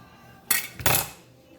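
Two quick metallic clanks and clatters as dishes and a colander are shifted around in a kitchen sink, close and fairly loud against quiet.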